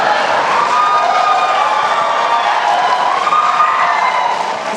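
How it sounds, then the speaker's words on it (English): Audience at a presidential debate between Clinton and Trump applauding and cheering: a dense, loud, sustained wash of clapping and crowd voices that holds steady throughout. "Please do not applaud."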